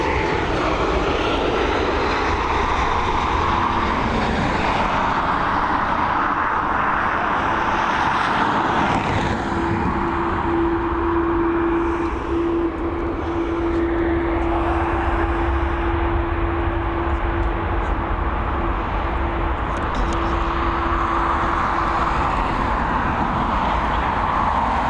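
Aircraft arriving at Dublin Airport: a loud, steady jet engine roar fills the whole stretch, with a sustained droning hum running under the broadband rumble and no voices.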